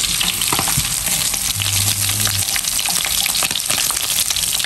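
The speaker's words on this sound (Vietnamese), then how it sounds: "Món chuột chiên giòn nữa nè." Rat meat fries crisp in hot oil, giving a loud, steady sizzle with crackling pops and a brief low hum partway through.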